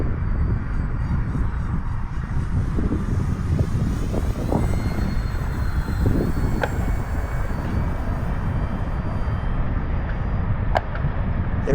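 The electric motor of an E-flite Commander RC plane with a 1.4 m wingspan drones steadily at about half throttle in flight on a breezy day. The hum stays constant and fairly close, with a faint whine above it.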